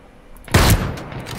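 A single sharp gunshot cracks out in the Ring of Elysium video game, a brief loud burst with a short decaying tail.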